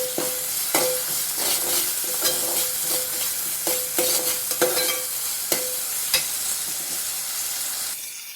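Cauliflower fry is stirred in a hot pan, a spoon knocking and scraping at a regular rhythm over continuous sizzling, close and fairly loud.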